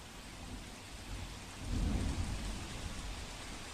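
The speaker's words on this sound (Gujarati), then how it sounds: "શહેરમાં ફરી વરસાદ શરૂ થયો છે" Steady heavy rain pours down in Mandvi, Kutch, India, with a low rumble of thunder swelling in the middle, fairly quiet and distant, no voices.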